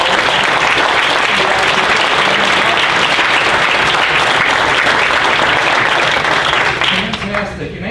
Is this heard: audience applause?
yes